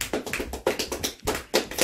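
Hands clap in a run of sharp, irregular claps during a Simon Says game at a Christmas Day gathering, close and fairly loud with brief gaps between bursts.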